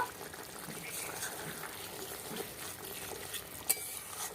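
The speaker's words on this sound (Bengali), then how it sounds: "নেড়ে নেব।" Potato curry (aloo dum) is stirred in a pan in a village kitchen, giving a soft, steady bubbling simmer with faint scraping of the spoon throughout and one sharper tap near the end.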